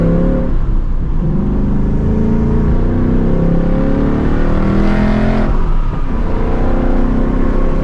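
A Ford Mustang S650 with active exhaust set to track mode revs hard, producing a loud, continuous engine roar that rises and falls in two surges, close by with no talking.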